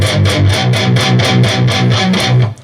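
Distorted electric guitar chugging a palm-muted riff, steady rapid eighth-note pulses with brighter accents, loud and close, ending abruptly.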